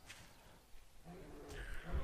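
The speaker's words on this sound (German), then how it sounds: "Aber jetzt der Bär, den ich höre" A bear roars in the survival video game 7 Days to Die, a low, faint growl heard from a distance that swells louder toward the end.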